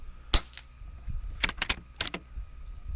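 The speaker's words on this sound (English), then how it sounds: "this is going to be the first shots through this rifle" An Umarex Gauntlet 30 PCP air rifle, a fresh build with a new cut-down barrel, fires several sharp close shots: a single crack, then quick groups of two and three with mechanical clicks between.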